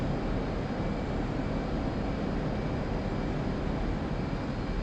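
A fighter jet engine roars with afterburners lit in a flight simulator game: a steady, loud, broadband rush that holds unbroken throughout with no talking.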